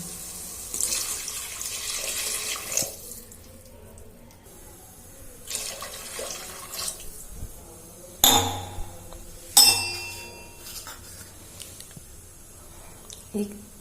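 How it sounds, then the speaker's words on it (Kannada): Water poured into a cooking pot while making vegetable pulao, heard as a few splashy, trickling bursts near the start and midway, with sharper clinks around the eight- and ten-second marks and quiet gaps between. "ಈಗ ನಾನು ನೀರು ಹಾಕೊಳ್ತಾ ಇದ್ದೀನಿ."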